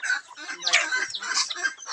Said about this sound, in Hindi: खाने के लिए चोंच मारती है, उसको ठोठती है